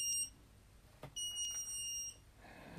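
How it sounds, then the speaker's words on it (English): Faint, high-pitched electronic beeps from a soldered 4-digit digital clock kit alarm sound in short bursts, first briefly and then a longer run of beeping, with a soft click between them. "And you can hear the alarm."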